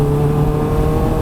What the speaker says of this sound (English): I mean a 2 litre supercharged engine